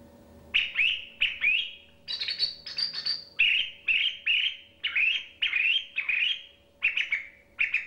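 A redwing birdcall whistle, played by breathing in, gives about a dozen short, high, thin chirps in quick uneven bursts. It sounds close and clear with no other sound around it.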